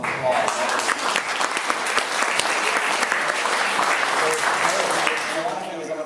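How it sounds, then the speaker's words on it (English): Applause from a room of staff at an end-of-year school retirement gathering, dense sustained clapping filling the space, fairly close and loud, easing slightly at the end with some voices mixed in. "Let's give them a big round of applause"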